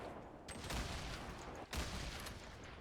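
Gunfire in the Fortnite battle royale video game, heavy booming blasts that fill the clip with dense, rumbling noise, two sharp attacks standing out about a second apart against continuous loud background.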